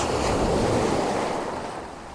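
Sea waves breaking around rocks on a shore at sunrise, a close, continuous roaring wash of surf with some wind rumble, no voices.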